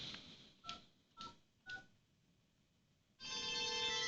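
A phone connected to an EMG100 system plays three short, evenly spaced keypad dialing beeps, then a few seconds later a sustained, buzzing line tone begins.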